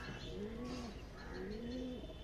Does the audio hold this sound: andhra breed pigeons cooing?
yes